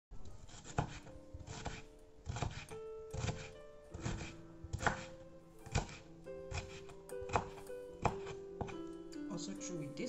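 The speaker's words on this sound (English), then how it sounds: "So, we are also dicing the carrots." A knife dices carrots on a board in a steady run of sharp chopping thunks, close and fairly quiet. The pace is quick and slightly uneven, with pauses between short bursts.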